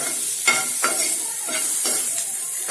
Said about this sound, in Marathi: त्याला छान हाय फ्लेमवरती स्टर फ्राय केल्यासारखं छान भाजून घ्यायचं